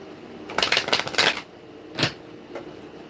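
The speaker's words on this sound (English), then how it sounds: "go ahead and get our lesson cards out the way" Tarot lesson cards are shuffled in a quick, close riffling burst, followed by a couple of short, softer card flicks in a quiet room.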